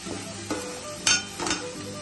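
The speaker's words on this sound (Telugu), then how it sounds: "ఇదంతా బాగా ఫ్రై కావాలి." Fish curry masala frying in a pan, a steady low sizzle with a few scraping stirs and light clinks of a utensil against the pan, close up and with no talking.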